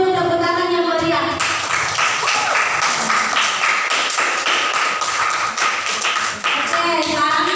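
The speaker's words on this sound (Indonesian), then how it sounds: "Semuanya dulu tepuk tangan yang meriah." Classroom of students clap hands together after a lesson, brisk rhythmic clapping filling most of the stretch, with a voice briefly audible at the start and end.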